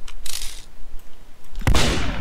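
Gunshots in a video game: a brief burst of rapid shots followed by a louder, sharp blast near the end, close and punchy.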